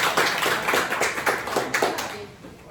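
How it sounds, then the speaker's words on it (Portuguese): A live audience claps together at the close of a talk: broad, steady applause swelling with rhythmic bursts, then thinning out toward the end. "mais uma vez uma salva de palmas"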